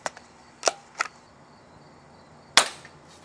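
Daisy 35 smooth bore air rifle fired in a backyard while plinking: sharp, dry cracks, three spaced over the first second and a louder one after a pause, with faint ambient insect hiss between.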